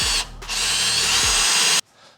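A power drill whines as it drives a bolt into wood with no pilot hole, revving loudly with a brief pause, then cuts off into quiet.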